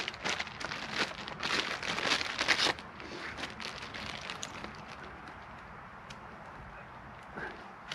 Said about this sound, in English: I've got a plastic bag as well,